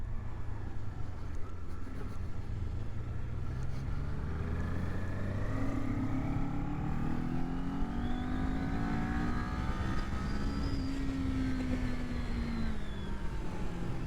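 A 2023 Kawasaki Ninja 400 motorcycle engine revs steadily higher as it accelerates, its rising pitch sweeping up through several long pulls, loud and continuous from a riding position.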